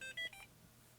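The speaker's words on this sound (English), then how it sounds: "Now it beeps and it says like I've received the information" A reTerminal E1001 ePaper display gives two or three short electronic beeps, quiet and close, then falls silent.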